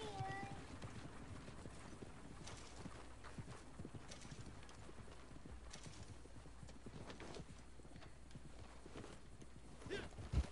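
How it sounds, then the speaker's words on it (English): Horse hooves gallop in the video game Red Dead Redemption 2 online, a rapid steady clip-clop running throughout beneath game ambience, with voices talking over it. "my horse is getting away."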